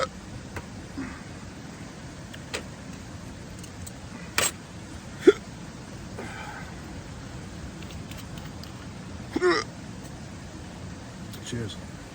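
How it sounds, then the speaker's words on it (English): Hiccups from a man wild camping beside a waterfall in the Peak District, a few short sharp bursts spaced several seconds apart over steady rushing water, with a voice speaking in between. "The bloody hiccups again."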